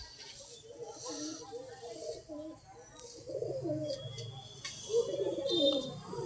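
Pigeons cooing nearby in a domestic setting, soft low repeated coos that rise and fall across the clip over a faint background hum.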